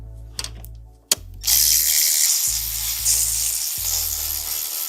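A ratchet works the 10mm grille bolts on a 2023 Chevrolet Silverado ZR2 pickup: a few sharp clicks and a knock, then a loud continuous ratcheting whir with a low hum running underneath, close and without talk.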